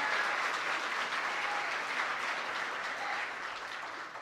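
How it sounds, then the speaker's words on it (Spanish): An audience gives sustained, even applause for the qualifiers at a 2016 regional oratory contest final in Darién province. The clapping stays loud throughout and eases slightly at the end. "Fuerte el aplauso para los 12 clasificados de la provincia de Darién."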